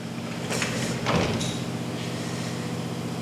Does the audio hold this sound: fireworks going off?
no